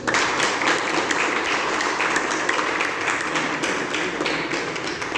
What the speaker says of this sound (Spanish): ¿Qué le parece si le agradecemos con las palmas al Señor?